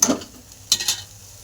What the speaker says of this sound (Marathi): आता मसाला तळून झालाय. हो काय चांगला तळून झाला मसाला.